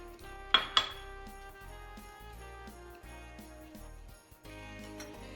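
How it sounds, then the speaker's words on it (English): A fork mashes butter in a dish, starting with two sharp metallic clinks, then a run of quick, close scraping and tapping strokes with short pauses, ending in a few more taps. "Get a fork and butter. And all you do is just mix this up."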